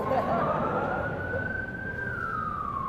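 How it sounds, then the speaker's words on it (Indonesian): A wailing emergency siren holds a long rising and falling tone across the whole stretch, loud and steady over a dense roar of road noise and background sound. "Kalau ambulan lewat dulu ada orang sakit atau pejabat lewat"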